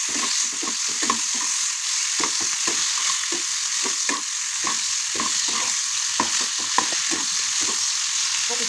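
Shrimp fry in hot oil with a loud, steady, close sizzle, broken by frequent sharp crackles and pops plus occasional stirring scrapes, with no voices.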